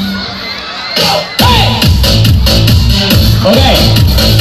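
A concert crowd shouts and cheers loudly, the roar jumping up after a quiet first second and staying dense and close, with excited individual yells standing out.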